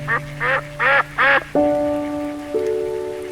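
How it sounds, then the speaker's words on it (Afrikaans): A cartoonish duck quacks four times in quick succession, loud and close, followed by sustained tonal synth notes in a gentle bedtime farm-animal setting. "Kan jy hoor hoe Eddie Eend kwaak?"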